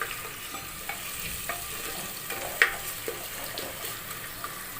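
Onions frying with ginger-garlic paste being stirred in a pan for chicken haleem, a faint steady sizzle with soft scraping stir sounds and one sharper clink, no talking.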